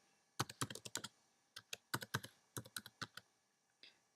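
A password being typed on a computer keyboard: several quick bursts of crisp key clicks with short pauses between them, close and fairly quiet with no talking.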